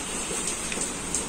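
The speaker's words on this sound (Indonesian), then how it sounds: "Hujan lagi ya?" Steady rain falls outdoors during a behind-the-scenes shoot, a continuous moderately loud hiss of drops on surfaces with no talking over it.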